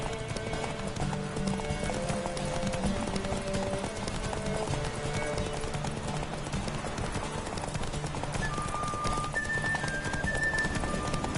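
Roach the horse galloping in The Witcher 3, its hooves clip-clopping in a fast, steady rhythm that runs without a break, close and prominent over a constant game soundscape with occasional tonal music notes.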